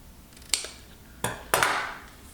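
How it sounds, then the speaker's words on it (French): Scissors snipping the corners off a sheet of paper for a scrapbook album, three crisp close cuts spaced apart in a quiet room. "On coupe les angles."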